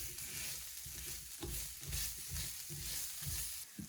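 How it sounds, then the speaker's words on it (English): Vegetables with garlic and garam masala are stirred in a pan, a soft, fairly quiet sizzle with rhythmic scraping strokes repeating roughly twice a second, no voices. "I'm gonna mix that right in with my veggies."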